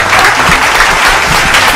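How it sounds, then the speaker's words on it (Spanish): Studio audience applause at the opening of a Saturday variety show, a dense steady clapping that fills the whole moment, loud and close with no talk over it. "¡Un aplauso!"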